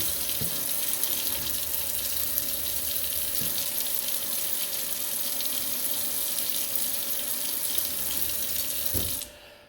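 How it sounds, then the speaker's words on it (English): Steady rush of tap water from a Kohler faucet with low flow on one side, pouring into a sink, constant and close, cutting off abruptly near the end. "we'll check the faucet once again"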